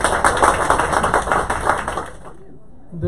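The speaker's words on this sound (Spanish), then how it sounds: "Pido un fuerte aplauso para él." An audience applauds for Orlando De La Mota, "El Showman del Caribe", with dense steady clapping that fades out after about two seconds, leaving near quiet before a faint sound at the end.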